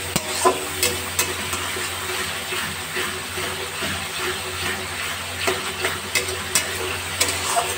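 Ground spices, including coriander powder, are stirred in a hot pan for a potato and jackfruit dalna, with a continuous sizzle broken by repeated scraping strokes and occasional sharp clinks.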